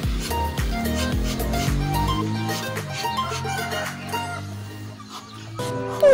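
Rooster clucking with fowl calls heard over a steady musical backing, fairly close and moderately loud, a few short calls scattered through the stretch.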